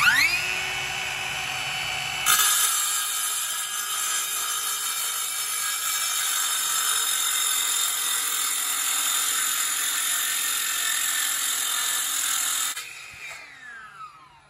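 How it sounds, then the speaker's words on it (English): Brushless Ryobi 7-inch saw fitted with a Diablo masonry blade spins up, then bevel-cuts across a stone face with a loud sustained high-pitched grinding whine before winding down. "we're going to do a bevel cut now across this face so that it meets well with the rock face"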